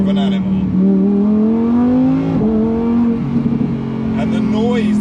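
A Lamborghini, an Aventador S or Huracan Evo, pulls hard on the road with a loud, steady engine note that climbs smoothly, dips briefly, then holds high, close and continuous.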